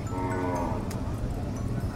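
A large water buffalo (carabao) at a livestock stockyard gives a drawn-out low moo among continuous ambient yard noise, with no clear talk.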